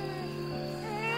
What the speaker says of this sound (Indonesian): terdengar sayup-sayup suara bayi menangis.